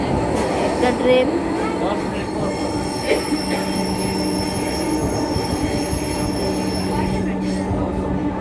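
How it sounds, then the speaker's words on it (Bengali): Dhaka metro rail train running toward Uttara North, a loud steady rolling hum from inside the car with a high wheel squeal sustained over the tracks, and a voice underneath. "This train is bound for Uttara North."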